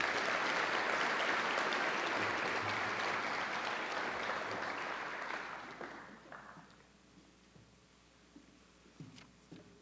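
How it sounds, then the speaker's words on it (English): An audience applauds at a high school honors and scholarship program as a speaker is welcomed to the podium: dense, loud, sustained clapping that tapers off after about six seconds into a quiet room with a few stray sounds. "Please join me in welcoming with a round of applause"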